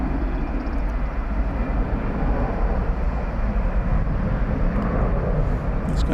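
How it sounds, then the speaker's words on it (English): A UPS cargo jet at DFW Airport, a steady broad roar of jet engines filling the whole stretch, continuous and fairly loud with no talking. "The UPS planes are the closest ones we get to see, so we generally like to zero in on these aircraft."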